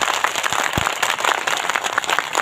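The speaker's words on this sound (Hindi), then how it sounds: "कितनी तालियां बजनी चाहिए वो आपकी गड़बड़ाहट से पता चलेगा" Audience applause at an outdoor community gathering, a dense steady wash of many hands clapping together throughout, fairly loud and close, with no voices over it.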